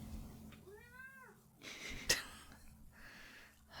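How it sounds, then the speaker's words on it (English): A pet cat gives one clear, rising-and-falling meow close by, followed by a faint rustle and a sharp tap, then quiet room noise. "She won't commit to jumping on my lap, but she'll just meow about it."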